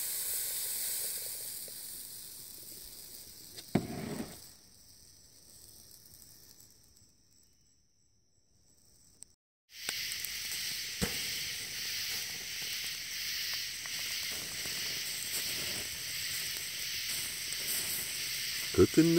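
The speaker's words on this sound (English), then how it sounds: "Cooking the sausage." Sausage sizzles in a Dutch oven at a gold-prospecting camp, making a steady hiss that fades into a quiet stretch and then returns fuller and brighter. Small clicks and knocks sit over the frying.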